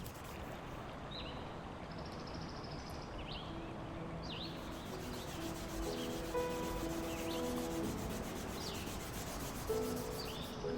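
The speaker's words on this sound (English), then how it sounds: "I'll buff the wax with an open weave cotton rag" An open-weave cotton rag buffs wax on an antique 1800s wooden library card catalog, giving a steady, faint rubbing hiss with soft repeated strokes, birds chirping faintly in the background.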